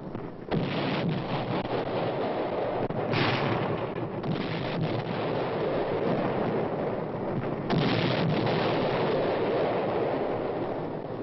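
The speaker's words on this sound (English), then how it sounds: "the infantrymen prepare to blast the Reds from still another hilltop with coordinated fire and high explosive shells" Artillery fire and high explosive shells bombarding a hilltop in a wartime infantry assault, a dense continuous roar of blasts and rumbling booms, loud and sustained with heavier surges.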